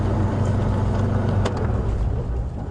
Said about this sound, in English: my voice is being masked by the sound of the engine